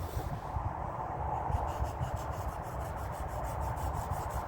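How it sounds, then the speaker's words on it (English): Steel knife blade being sharpened on a Falk Kniving sharpening stone outdoors, the bevel held flat as the edge is worked. A continuous close scraping rasp of metal on stone runs steadily throughout, with no talking. "I keep the bevel flat against the stone"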